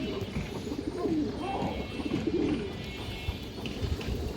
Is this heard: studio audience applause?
no